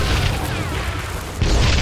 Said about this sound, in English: Who said you could throw dynamite?